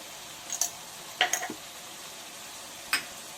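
A hyacinth bean dish with ghee being stirred in a pan, heard as a few sparse, close spoon clinks and scrapes against the pan over a quiet background.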